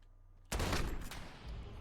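Gunfire from the Modern Warfare alpha multiplayer, a sudden loud burst of overlapping shots that starts mid-clip and keeps rattling as a dense, sustained volley with no talk.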